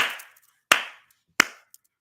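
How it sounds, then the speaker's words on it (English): Three loud, close hand claps spaced a little under a second apart, each sharp and ringing briefly in a quiet room, followed by a faint tap. "Y'all know me with the clap."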